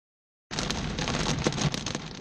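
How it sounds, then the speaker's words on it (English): Heavy rain and hail pound down hard in El Paso County, a sudden dense, loud hiss with scattered sharp impacts that continues steadily. "Rain and hail hitting El Paso County hard."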